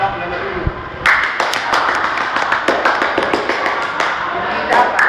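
An audience claps at a Filipino balagtasan verse debate, with scattered sharp claps breaking into a burst of lively applause that keeps going under a speaking voice.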